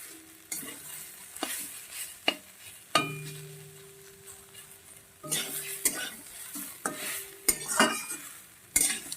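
Radish curry (mulo ghonto) being stirred in a pan, a spoon scraping and clinking against the metal in irregular strokes over a low sizzle, with a few sharper knocks near the end.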